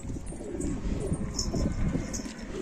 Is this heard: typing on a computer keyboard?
no